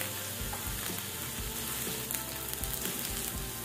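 Ginger sautéing in a hot pan, a continuous dense sizzle with occasional stirring scrapes, close and steady, no voices.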